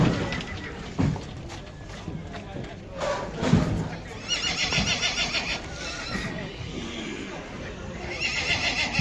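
Heavy draft horses at a horse market in Poland neigh and whinny repeatedly, some calls loud and close, others farther off, amid hoof clops, a busy crowd and nearby talking.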